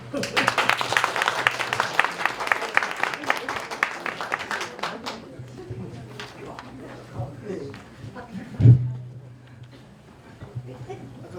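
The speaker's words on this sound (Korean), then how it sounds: "박수." A small congregation claps at a Christmas worship service in a police station church, with a short burst of distinct hand claps over the first few seconds that dies away, followed by speech over a low electrical hum.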